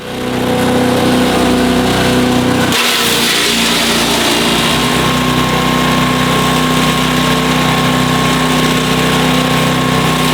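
Small petrol engine on a leaf mulcher starting up and running at a steady, loud idle with a constant hum and rattle throughout, no talking.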